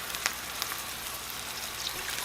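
Brine poured into a pan of sweet and spicy Thai meatballs with pineapple, giving a soft, steady sizzle and patter of liquid hitting the hot pan, faint and continuous with a few small pops.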